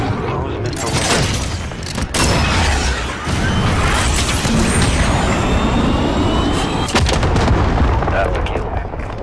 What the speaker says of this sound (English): Cruise missile ready to launch.